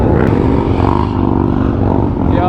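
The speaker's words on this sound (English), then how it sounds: "these Harleys" Harley motorcycle engines rumble and rev steadily and loudly at a busy Miami gas station, a dense, continuous roar of several bikes with clattering mechanical noise and no talk.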